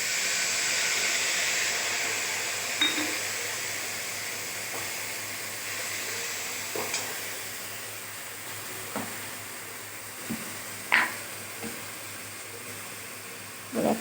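Ground spices for a rohu fish curry with mango sizzle in hot oil after a nigella-seed tempering, a loud, steady hiss that slowly eases, broken by occasional clinks of a utensil against the pan.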